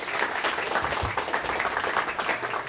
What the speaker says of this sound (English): give it a big round of applause, please